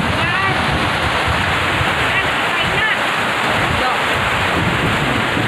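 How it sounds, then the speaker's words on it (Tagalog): Heavy rain pours outdoors in the Philippines during a backyard pig roast, making a dense, constant, close roar that fills the scene, with voices faint beneath it. "nabuta kami ng ulan"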